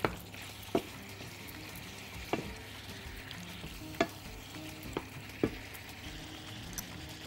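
Black pepper fries in hot oil while being stirred, a soft, steady sizzle broken by several distinct scraping clicks from the spoon against the pan.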